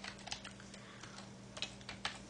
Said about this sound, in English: I'm just gonna type that in